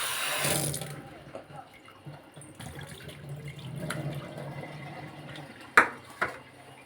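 Raw rooster meat from a fighting cock being washed under a running kitchen tap, a steady close splash of water with a couple of sharp clatters near the end.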